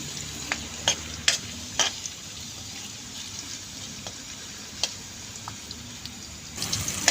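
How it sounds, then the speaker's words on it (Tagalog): Carrots fry gently in a pan for chicken kaldereta, giving a soft steady sizzle broken by several sharp clicks and stirring scrapes, louder toward the end. "Prito po natin itong carrot at saka kaunting prito lang po yan."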